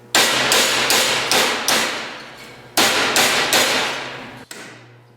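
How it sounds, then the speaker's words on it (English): A 5-pound hammer strikes metal held in a vise in two bursts of rapid, ringing blows, each hit loud and close with a sharp metallic clang that decays quickly. "take my 5-pound hammer and whack the heck out of it"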